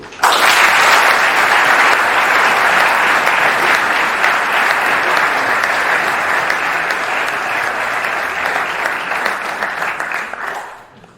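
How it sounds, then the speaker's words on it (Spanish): Loud, sustained audience applause at a tribute event, a dense wash of clapping that holds steady for about ten seconds before tapering off and ending abruptly. "Unha forte aplauso"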